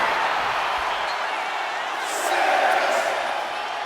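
A wrestling arena crowd in the video game WWE 2K25 roars in a steady, dense wash of cheering that swells slightly midway, loud and continuous, with a voice talking over it.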